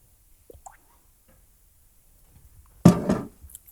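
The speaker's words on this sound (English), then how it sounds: "Now, I'm just going to take a sip of my water here quickly." A person takes a quick sip of water during a talk, a brief wet slurp and swallow close up, with faint small mouth sounds before it.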